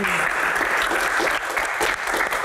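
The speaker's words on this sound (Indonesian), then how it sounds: "Tepuk tangan dong." Audience applause at an Indonesian Q&A show, a steady dense wash of many hands clapping that holds loud and close for the whole stretch, with no voices over it.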